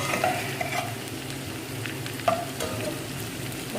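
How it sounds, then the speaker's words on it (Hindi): Sliced mushrooms lightly frying in a pan give a steady close hiss with soft scraping stirs and a couple of sharper clinks, no voices. "मशरूम को आपने लाइट सा फ्राई करना है बस।"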